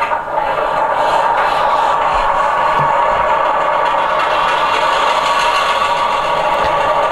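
A Walthers Mainline SW7 model switcher locomotive in Illinois Central Gulf livery runs its sound decoder startup, giving a steady, continuous diesel engine rumble and idle with faint clatter throughout, no voices.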